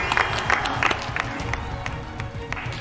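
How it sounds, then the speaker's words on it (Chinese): An audience at a large variety show claps to welcome a judge, with dense applause and scattered sharp claps under a murmuring crowd, some voices mixed in. "让我们掌声欢迎一下。"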